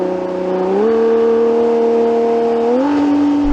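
A V12 Ferrari hypercar engine revs hard on a gear kickdown, toward 9,000 rpm: a loud, sustained, tonal engine note that steps up in pitch twice as gears change, with no talking.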